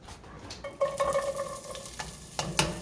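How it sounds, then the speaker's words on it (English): Onions sautéing in a pan on medium heat for broccoli cheddar soup, a soft close sizzle with stirring and scraping, a brief ringing metallic tone and a couple of sharp utensil clicks, without speech. "we're going to do a quick saute of the onions"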